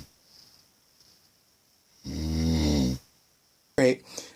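A person imitates snoring with one long, loud, throaty snore, then a shorter snort-like burst, between quiet stretches.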